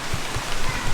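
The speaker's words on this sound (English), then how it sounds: "It's starting to rain." Rain beginning to fall outdoors during outdoor cooking, a steady patter of drops on surfaces with a few soft low thumps, close and fairly loud, with no talk.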